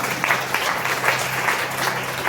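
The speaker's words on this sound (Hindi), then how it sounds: "जोरदार ताली बजा के ताली बजाओ।" A church congregation applauds loudly during a sermon, a steady dense clatter of many hands clapping together with rhythmic surges, filling the room with no voice over it.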